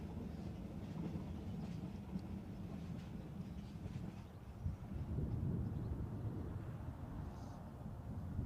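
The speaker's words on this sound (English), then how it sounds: "You can definitely hear a tram, a metro train." A metro train passes at a distance outdoors near Newcastle airport, a steady low rumble with faint clattering and wind buffeting on the microphone, slightly louder midway through.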